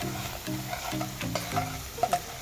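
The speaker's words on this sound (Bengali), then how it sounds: "দিয়ে আমি ভালো করে মশলাটা কষিয়ে নেব।" Spice masala sizzling and frying in a pan while being stirred, rhythmic scraping strokes over a steady close crackle with no speech.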